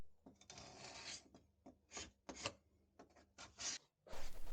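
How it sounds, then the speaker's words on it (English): Rasping tungsten carbide scraper strokes against a fiberglass boat hull, several separate bursts with short pauses between them, close and fairly quiet, followed by a louder rough scrape. "Instead of sanding, I use a tungsten carbide scraper to get back to a surface that I could fiberglass."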